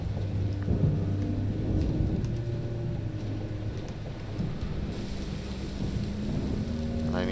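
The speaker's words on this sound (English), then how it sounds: "Obviously got a storm brewing." A thunderstorm in a vampire survival video game, steady rain hiss with low rumbling thunder rolling continuously throughout, a brief rising tonal sound near the end, no talking.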